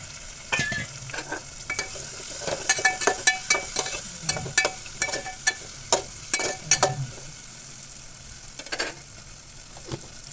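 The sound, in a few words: cut brinjal frying and being stirred in a pan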